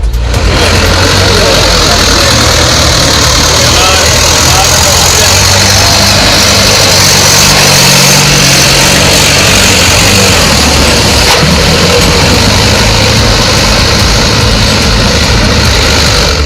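A steady, loud engine drone runs throughout with low rumbling and constant broadband noise from a tractor ploughing a paddy field nearby; no talk stands out.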